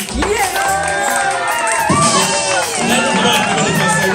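A worshipping congregation in a French-speaking church cheers and acclaims God, a dense, loud crowd roar of shouts and raised voices rising and swelling steadily throughout.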